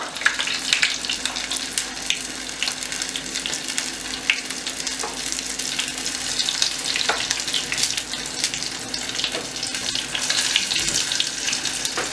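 Lezita chicken pieces fry in hot oil with a steady, dense sizzle and crackle, close and continuous, with faint clinks and stirring under it.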